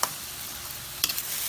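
Oysters and mixed ingredients sizzle steadily in a hot pan with butter, a constant bright frying hiss, broken near the end by a quick scrape and clatter of a spatula stirring.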